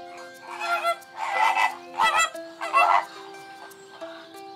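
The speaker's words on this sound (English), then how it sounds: "The noises they make are grunting, low growling, or nasal honking." A flock of flamingos gives nasal, honking calls in rapid bursts, several voices overlapping against a steady background hum.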